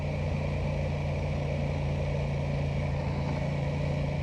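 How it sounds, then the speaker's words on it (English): An Aprilia Tuono 660 Factory twin-cylinder motorcycle engine running at a steady idle, a continuous low, bassy rumble heard up close and alone. "It's got a really nice twin cylinder sound, and it's kind of like a bass note to it."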